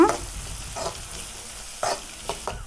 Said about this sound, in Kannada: ಇದನ್ನ ಎಲ್ಲ ಚಲೋದಂಗೆ ಫ್ರೈ ಮಾಡ್ಕೊಳ್ಳೋಣ